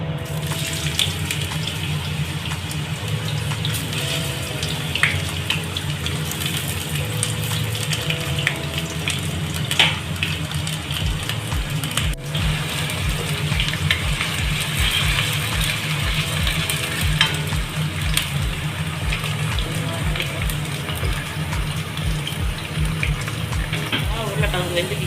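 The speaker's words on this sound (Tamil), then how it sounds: "எண்ணெயில் லைட்டாக பொரிச்சிக்கலாம்." Potatoes fry lightly in oil in a pan, a continuous sizzling hiss with occasional spoon stirring, steady and close.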